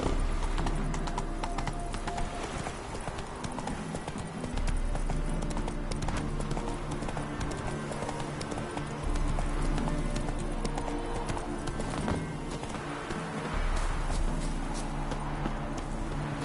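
Horse hooves clip-clop steadily and continuously at a trot in The Witcher 3, loud and close, mixed with game ambience and occasional snorts, with no talk over it.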